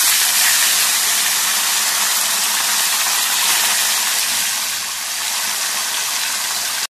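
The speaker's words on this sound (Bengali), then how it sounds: "এবার এতে দিয়ে দিলাম মাছ।" Fasha fish dropped into hot oil for a Bengali fish jhal, giving a loud, dense, continuous sizzle that stays close and fills the clip before dipping slightly near the end.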